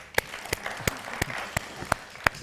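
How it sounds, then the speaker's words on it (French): Applause from an audience at a televised French public forum with a ministry official, heard as a thin scatter of sharp, evenly spaced claps, roughly one every third of a second, fairly close and moderately loud. "Je crois qu'on peut l'applaudir quand même."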